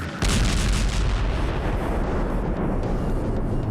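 A sudden massive blast erupts after a brief silence as a dam is blown up, then a sustained roaring rumble of debris and rushing noise continues loudly to the end.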